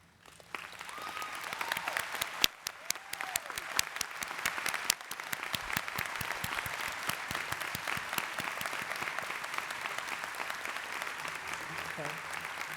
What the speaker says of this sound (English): So I do ask that all members of Psi-Chi to stand, and we will applaud your accomplishments.